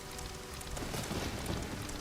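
Steady rain in the Majora's Mask video game, a continuous dense hiss of falling drops on surfaces, even and unbroken throughout, with no talk.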